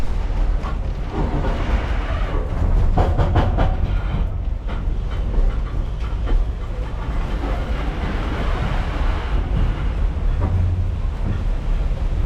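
Kuranda Scenic Railway train carriage rolling along rails, a steady loud rumble with rhythmic clatter and some wind noise over the microphone throughout.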